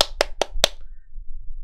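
Four sharp hand claps ring out in a quick, even rhythm, close and fairly loud, then stop, leaving a quiet background.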